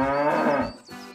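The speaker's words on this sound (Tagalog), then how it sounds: "Unga, unga, hiyaw ng kalabaw." A carabao, the water buffalo, lowing in a deep, drawn-out moo, loud and close, fading briefly before a second shorter call begins.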